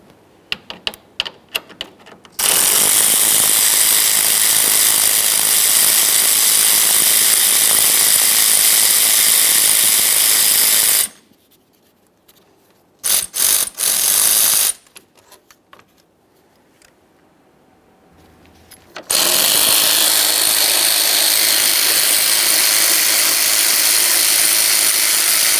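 Ratchet working on 10mm bolts at the radiator of a 2007-2017 Jeep Wrangler 3.6L V6: loud, close, rapid clicking in long steady bursts, broken by short pauses and a few brief clicks, with no talking.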